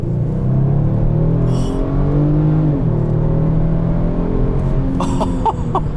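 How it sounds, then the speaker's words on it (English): A 2021 Kia Stinger GT with a 365-horsepower engine accelerates hard, a steady loud engine drone rising in pitch from inside the car, with a few light clicks near the end. "let's check out and see what 365 horsepower does"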